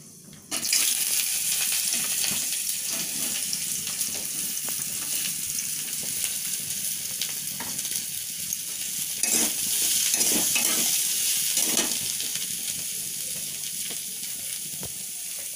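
Panch phoron and chopped bottle gourd peel dropped into hot oil burst into a loud, sustained sizzle that carries on steadily, with occasional stirring scrapes in the pan.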